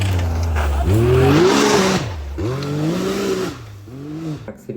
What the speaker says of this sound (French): Accélérer tout à fond, c'est incroyable.